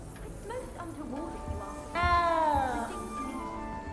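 A cat meows in the video game Hogwarts Legacy, one clear drawn-out falling meow over background game sound, with softer mews and voices around it.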